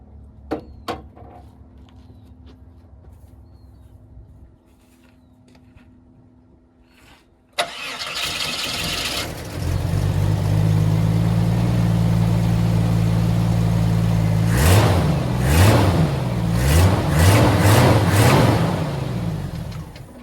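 A few clicks, then a Jeep Wrangler YJ engine cranks and catches, settling into a steady idle before several sharp revs rise and fall, loud and close.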